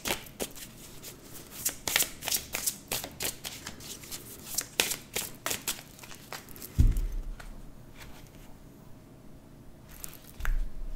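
Oracle cards are shuffled in quick, close riffling bursts, followed by softer handling and a couple of heavier taps as cards are drawn and laid down.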